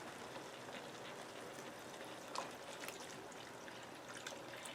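Four cups of water pouring into a soup pot for cabbage patch soup, a faint continuous trickling splash that runs steadily throughout.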